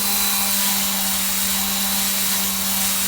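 A power sander grinds steadily against a heavily rusted old DL&W railroad rail, a continuous loud, even abrasive whir with a strong low hum that holds for the whole stretch.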